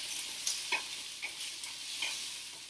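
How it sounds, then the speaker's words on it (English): Spiced potatoes coated in turmeric sizzle in a pan while a utensil stirs them, with faint scraping strokes every half second or so over a soft, continuous hiss. "now we stir this, make sure that the potatoes are totally coated in the herbs and the spices and the turmeric"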